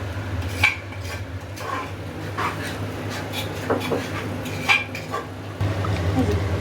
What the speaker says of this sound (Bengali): মাংস ভালো করে একটা কষানো হচ্ছে